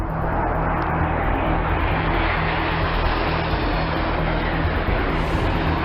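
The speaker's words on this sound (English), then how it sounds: "We have two Russian Su-24s currently conducting multiple passes at CPAs of 75 feet." Two Russian Su-24 jets making repeated close passes over a ship at about 75 feet, heard as a loud, steady engine roar that fills the scene without pause or voices.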